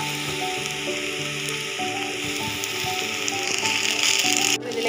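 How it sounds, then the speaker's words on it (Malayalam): Sprouted green gram tossed into a pan of sautéed onions for a thoran: steady close sizzling and frying with a few scraping stirs, alone and fairly loud, with a low tonal hum beneath. "ഇനി ഇതിലേക്ക് നമുക്ക് നമ്മളുടെ മുളപ്പിച്ച ചെറുപയർ ഇട്ട്"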